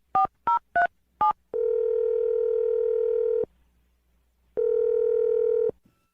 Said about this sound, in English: I'm dialing it right now.